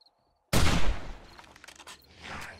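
A loud burst of gunfire in the survival game 7 Days to Die hits suddenly after a moment of quiet, then rattles on in a dense, echoing barrage.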